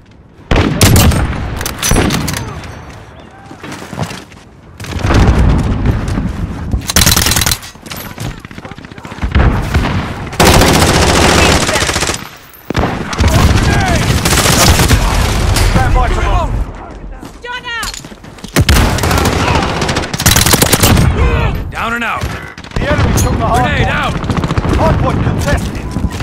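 Rapid Uzi submachine gun fire in a shoothouse map of a first-person shooter, loud bursts and sustained volleys recurring throughout alongside game sounds and callouts.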